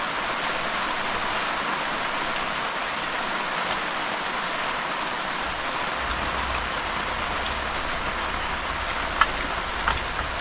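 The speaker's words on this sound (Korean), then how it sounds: "빗소리 행복해" Steady rain falls on surfaces all around a campsite, a constant dense hiss with occasional louder drips and a low rumble joining partway.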